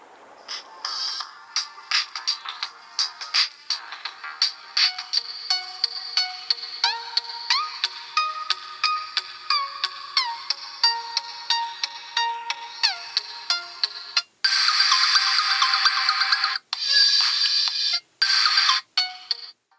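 A song plays through the small, tinny speaker of a FitZ smartwatch, with thin high-pitched melodic tones in short rhythmic bursts, heard up close with no talking and growing brighter and denser toward the end.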